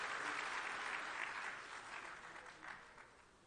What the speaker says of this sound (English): Ladies and gentlemen, kindly give him a rousing and a very warm applause.